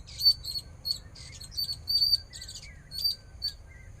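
Bright, high-pitched bird calls in quick repeated bursts, fairly close, over a low steady rumble of background noise; no talking.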